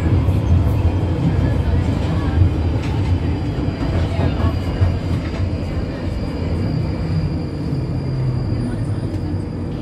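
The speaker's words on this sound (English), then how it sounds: "This is a Northern Line train terminating at Edgware." A London Underground Northern Line 1995 Stock train rumbles steadily at close range between Kennington and Edgware, a dense, continuous low roar with faint rattling throughout.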